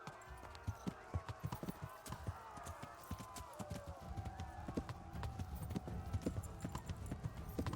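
Horse hooves clip-clopping at a steady run in the medieval game Kingdom Come: Deliverance, rhythmic thuds continuing throughout with a faint whinny, while someone speaks excitedly over them.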